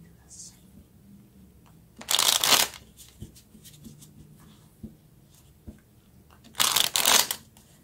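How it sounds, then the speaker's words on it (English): A deck of tarot cards is shuffled in two short, crisp riffling bursts, close and fairly loud, separated by quiet handling sounds and a soft voice. "Let's take a few clarifying cards."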